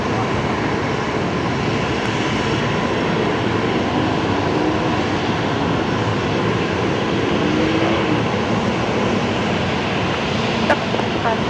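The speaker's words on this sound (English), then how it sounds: "I think they're about to begin their takeoff roll" An airliner at Brisbane Airport gives a steady, broad engine roar that holds at an even level throughout, heard from a moderate distance with no clear build or fade.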